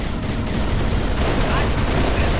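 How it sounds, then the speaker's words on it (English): Hostile gunfire in Halo: Reach during a battle in New Alexandria, a dense, continuous burst of rapid shots with no gaps, loud and close throughout. "Watch for hostile fire."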